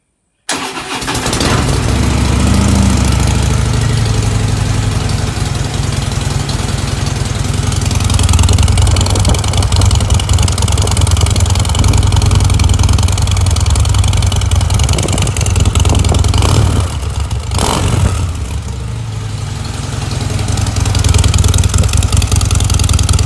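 A stock fuel-injected 2017 Harley Davidson Dyna Wide Glide starts and settles into a loud, steady, deep rumbling idle, close up and continuous with no talking.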